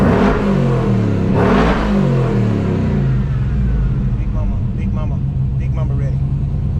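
Engine of a powerful, high-torque car revving loudly and steadily throughout, with a deep rumble and rising pitch sweeps, a voice talking briefly over it near the start.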